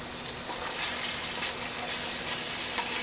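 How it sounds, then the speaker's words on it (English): Food sizzles and crackles steadily in a hot carbon steel wok during stir-frying, with occasional scraping stirs over the continuous frying hiss. "Get a little bit more of a sizzle on there."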